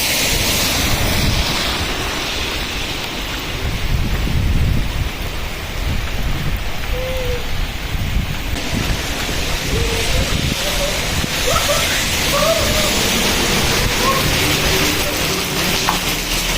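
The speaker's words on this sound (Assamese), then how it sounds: "বৰষুণটো ইমান ডাঙৰকৈ দিছে" Heavy rain with thunder, a dense, loud, continuous downpour hissing on surfaces close by, with deep rumbling underneath and a few faint distant tones, no talking.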